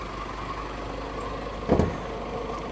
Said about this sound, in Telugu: ఎప్పుడైతే మనం ఇంజన్ అనేది స్టార్ట్ చేసామో